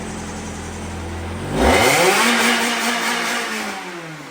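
An engine in a wrecked Mazda Miata being built into an exo car idles, then is revved hard once. It is loud and close, climbing to a roaring peak before slowly winding back down.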